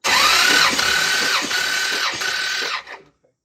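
A Belvedere engine cranks over loudly during a compression test, a whirring starter drone with rhythmic dips at each compression stroke, then it winds down and stops.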